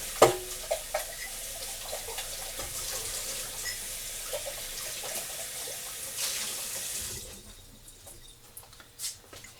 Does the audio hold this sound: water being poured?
yes